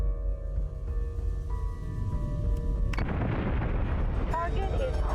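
Full broadside cannon volleys from warships in the space combat game Battlestar Galactica Deadlock, a continuous loud rumble of heavy booms and bursts that swells into a denser barrage partway through.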